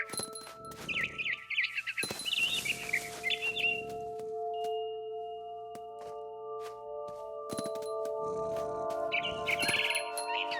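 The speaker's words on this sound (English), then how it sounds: "Then I heard chirping outside my window. It was a barn swallow going back to her nest." A barn swallow chirps in the video game What Remains of Edith Finch: two clusters of quick, bright twitters, close by, set against sustained soft musical tones.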